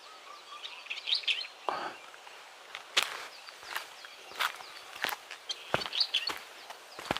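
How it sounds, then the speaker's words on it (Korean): Birds chirp and call in an open outdoor setting at the Susa Temple ecological forest on Gongjaksan, Hongcheon, with a few sharp snapping sounds and light footsteps mixed in, no talking. "새소리 들리세요?"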